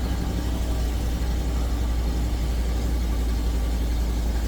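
A 2004 Land Rover Discovery 2 engine running just after a cold start, a steady, even idle rumble with heavy low-end drone and a broadband mechanical hiss, close and constant throughout with no voices.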